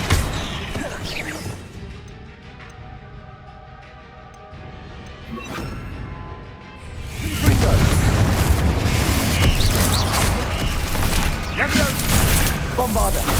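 Bombarda blasting spell explosions in the video game Hogwarts Legacy: a quieter mechanical stretch, then from midway a loud, sustained booming crash with dense rumbling impacts, heard under game sound.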